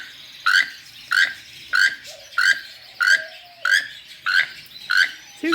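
A pet bird named Took calling in a bird store, repeating a loud, harsh croaking call about once per second in a steady rhythm, close up, with no talk.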